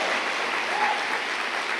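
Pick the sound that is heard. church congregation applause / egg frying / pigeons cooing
church congregation applause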